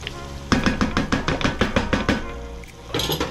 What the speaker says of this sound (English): And you just stir until you see the flour disappearing.